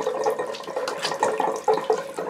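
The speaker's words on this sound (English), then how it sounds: "we'll go down her legs and sort of get some of this water out of there by squeezing it" Water squeezed from the legs of a skinny, wet puppy named Cocoa during a bath gives soft, close splashing and dribbling sounds in small irregular bursts. The sounds are fairly quiet, and nobody speaks.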